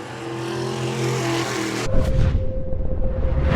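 A race car at New Smyrna speedway: a steady engine whine with droning tones, then an abrupt, louder rough roar as it passes close by, loud and unaccompanied by talk.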